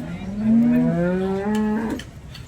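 A Jersey cow moos nearby at the Sangola cattle market, one long low drawn-out call lasting about two seconds, loud and alone.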